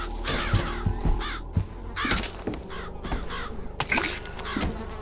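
Crows in Bioshock Infinite caw repeatedly in harsh, scattered calls, several birds overlapping, close and fairly loud.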